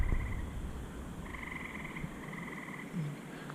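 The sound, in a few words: frogs croaking at a forest campsite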